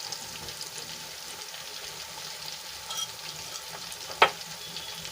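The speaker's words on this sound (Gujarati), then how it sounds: "અને સરસ રીતે આપણે ચટણીને સાંતળી લઈશું" Tomato, garlic and chili chutney frying in a pan for a Kathiyawadi thali, a steady sizzle with stirring throughout and one sharp clink near the end, no talking.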